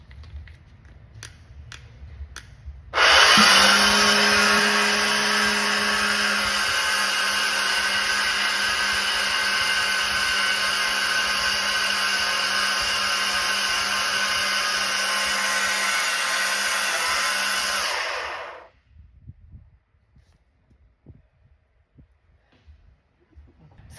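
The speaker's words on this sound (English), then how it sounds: "this is the blender that I actually use the entire time" A blender running continuously for about fifteen seconds while mixing homemade hair growth serum, a loud steady whirring drone that stops abruptly, with faint quiet room sound before and after.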